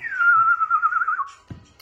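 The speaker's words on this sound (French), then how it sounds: "C'est un sifflet." A single sustained whistle tone, loud and close, wavering slightly before dropping off, followed by a brief low thump.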